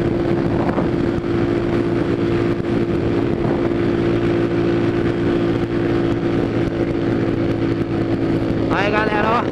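Small motorcycles ride past on a road, their engine drone steady and fairly loud with wind rumble, and a brief higher whine rises near the end.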